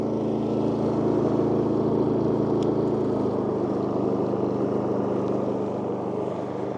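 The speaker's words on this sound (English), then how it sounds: "now that it's idled down, so it is a little bit quieter" A WEN 4800W dual fuel generator running on propane and idling down in eco mode gives off a steady, fairly loud engine drone that holds constant throughout, with no voices.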